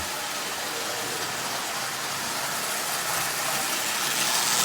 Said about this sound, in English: This little motor is really zippy because it's so old and worn.